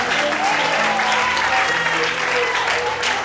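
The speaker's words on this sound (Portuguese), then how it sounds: "As palmas, aleluia!" Church congregation clapping hands during a sermon, dense and loud, blended with voices and a sustained musical tone underneath. No break in the sound from start to end.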